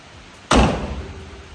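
A single solid car passenger door slams shut nearby in the rain, a sharp heavy thud followed by a short fading rumble.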